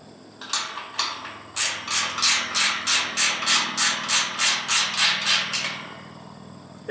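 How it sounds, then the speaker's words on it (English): Hammer wrench worked on a fence gate during installation: a series of about a dozen evenly spaced, sharp rasping strokes, fairly close and loud, after a couple of separate scrapes. "this is a hammer wrench"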